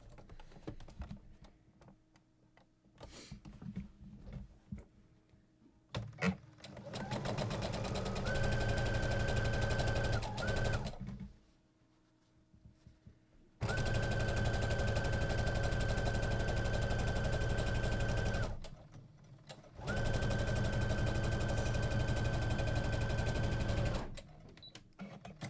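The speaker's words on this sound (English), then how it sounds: "we're gonna sew along the top edge at a 1/4 inch seam allowance." A sewing machine runs in three loud, steady bursts with short pauses between, stitching a quarter-inch seam along the curved top edge of a tote bag lining, close up and with no talk over it.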